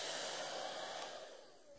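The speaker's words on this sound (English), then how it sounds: "we just chose to use a simple hair dryer, and it also speeds things up for the demonstration" A hair dryer blows with a steady, airy roar, close and continuous, easing slightly toward the end.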